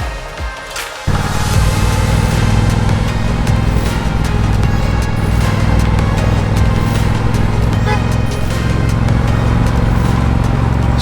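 A Triumph Bonneville Bobber motorcycle starts out quiet and then rolls into a loud, steady riding note that holds for about ten seconds, with wind noise layered over a deep, continuous engine hum.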